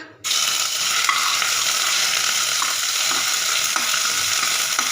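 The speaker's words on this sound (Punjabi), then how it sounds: "ਸਭ ਤੋਂ ਪਹਿਲਾਂ ਆਪਾਂ ਪਾਵਾਂਗੇ ਅਦਰਕ ਲਸਣ ਦਾ ਪੇਸਟ" Ginger garlic paste sizzles steadily in hot oil in a pan while being stirred, a dense continuous frying hiss with faint scraping clicks, close and loud, starting abruptly and running without talk.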